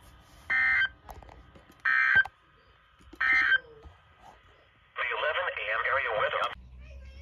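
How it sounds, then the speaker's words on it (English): Emergency Alert System test tones play on Maryland broadcast radio: three short, evenly spaced beeping bursts, then a longer harsh warbling alert tone. "coordinated test of the emergency alert system"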